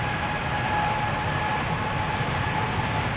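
KLM Boeing 777-300 jet roaring on takeoff at Amsterdam Schiphol Airport, a loud, steady broadband engine rumble with a faint whine, heard alone and up close.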